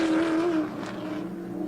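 Big muscle-car sports sedans race hard at a street circuit, with a loud engine roar holding a steady pitch before dropping away as the cars run on, driven loose at the rear under heavy braking.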